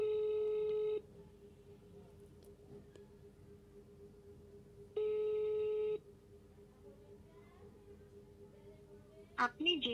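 A phone call being placed from a Grameen mobile number to a DTMF-based smart device controller: two steady ringback tone bursts, one at the start and one midway, with quiet line hiss between and a brief click near the end.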